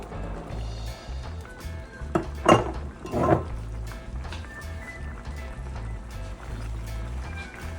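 Cooked penne pasta tumbles into a pan of spicy jerk chicken sauce, giving two short clattering, clinking bursts over steady background music.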